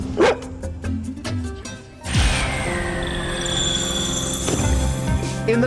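Dog barking in a veterinary rehabilitation setting, a few sharp yips early on, then a continuous loud wash of background sound that keeps the barks partly buried.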